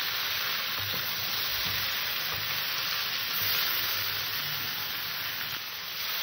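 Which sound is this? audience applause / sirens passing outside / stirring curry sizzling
stirring curry sizzling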